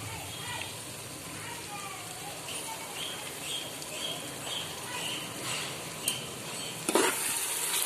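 Mint being stirred into chicken biryani in a pot, with soft scraping and faint sizzling running steadily throughout and a sharper knock of the spoon near the end.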